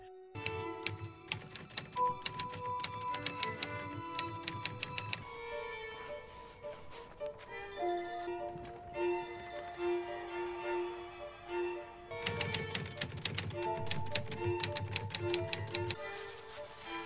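Typewriter keys clack in quick bursts with a bell and carriage return, set against soft background music and paused in the middle.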